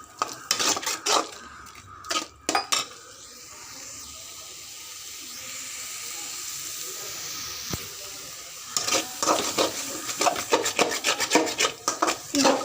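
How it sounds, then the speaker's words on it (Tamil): Blood fry (ratha poriyal) being stirred and sautéed in a pan over high flame, with scraping and clattering of a spoon against the pan in quick clusters around a quieter hissing middle stretch, close and moderately loud. "அந்த கருப்பு கலர் வர வரைக்கும், அந்த கன்சிஸ்டன்சி வர வரைக்கும் நீங்கள் ரத்தத்தை வதக்கலாம்"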